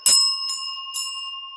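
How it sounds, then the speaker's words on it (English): A bell is struck three times in quick succession, each bright ding leaving a clear sustained ring that hangs and fades slowly, close and loud in an otherwise quiet space. "Let me do a better bell ring."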